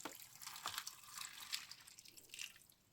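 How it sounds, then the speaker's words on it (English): Water is poured into a pot holding an alocasia in semi-hydro mix, giving soft trickling and dripping splashes that rise and fall over a few seconds, close but quiet, with no talking. "whilst I pour all the water in."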